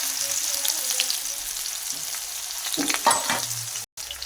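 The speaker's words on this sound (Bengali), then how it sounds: "দেখো পেঁয়াজটাকে একটু লাল লাল করে ভেজে নেব" Chopped onions sizzle steadily in a pan with cumin seeds, a bright frying hiss throughout, with a few louder scraping stir strokes near the end and a brief dropout.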